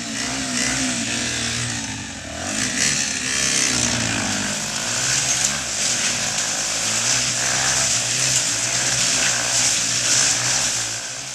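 A motorcycle engine revs loudly and continuously as it circles inside a circus globe of death, a buzzing, droning roar that rises and falls slightly without pause.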